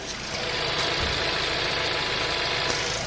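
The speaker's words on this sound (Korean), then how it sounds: "네, 영상에서 들리시는 것과 같이 굉장히 정숙하고 규칙적인 엔진 사운드 들려주고 있고요." A 2018 Hyundai Grandeur IG sedan with a 2.4 GDI engine idles with the hood open, a steady, even mid-pitched hum with faint ticking, close and continuous, with no talking.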